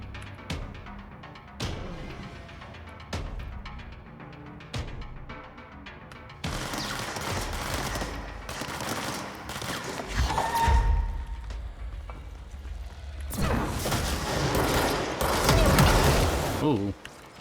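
Gunfire in the video game Control comes as a few sharp, separate shots early on, then heavier bursts and loud impacts with mechanical clatter, mixed with game ambience and brief talk.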